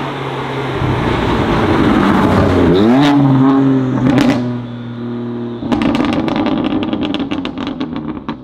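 A 700 hp Manhart-tuned BMW M2 Competition launches hard with wheelspin, the engine roaring loud and close as revs climb, drop through gear changes and climb again, with crackling pops toward the end.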